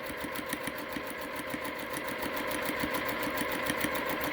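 A sewing machine stitches steadily along a marked seam line on a quilt block, its rapid needle beat running evenly and close throughout with no talking.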